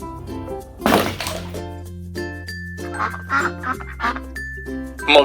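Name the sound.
duck quacking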